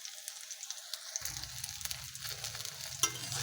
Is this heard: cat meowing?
no